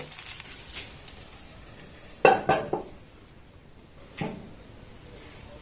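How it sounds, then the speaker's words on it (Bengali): A lid goes onto a pan of chitoi pitha made from dry rice flour, landing with a sharp, close metallic clatter and a quick rattle, then a softer clink a moment later. "এবার এটাকে ঢাকা দিয়ে খুব সুন্দর করে আমি বানিয়ে নেব"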